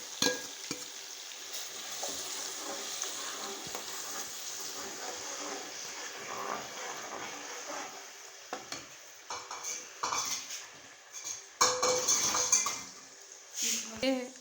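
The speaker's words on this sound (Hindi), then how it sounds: "ये हमने हरी मिर्चें और अदरक डाली है। अब हम इसको फ्राई करते हैं।" Green chillies and ginger masala frying in a pan, a soft continuous sizzle with occasional scraping and stirring clinks of a utensil against the metal pan, louder knocks toward the end, no voices.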